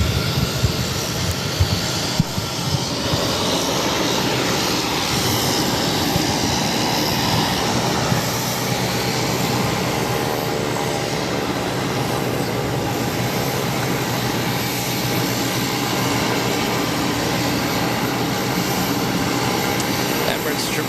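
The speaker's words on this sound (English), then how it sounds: "1855 taking off to Washington Reagan National on an E190" A JetBlue Embraer E190 jet takes off at Boston Logan, a steady, loud roar of engine noise that holds without a break throughout, broad and rumbling, with faint voices mixed in underneath.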